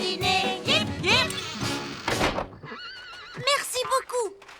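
Horses neigh and whinny in a cartoon ranch corral scene, several loud rising and falling calls following one another, over busy music and voices at the start.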